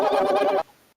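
A person imitates a turkey with a loud warbling gobble that lasts about half a second, then breaks off into near silence.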